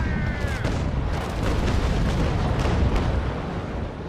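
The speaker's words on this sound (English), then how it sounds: "Firing from the bow, get ready, aim, fire!" A sailing warship's cannon broadside fires in the Naval Action game, a dense, sustained roar of overlapping blasts rumbling on loudly for several seconds with no pauses.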